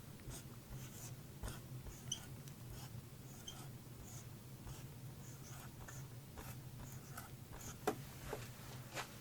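Faint pen strokes of Punjabi letters being handwritten, soft scratchy ticks and short scrapes scattered irregularly over a low steady hum, with no talking.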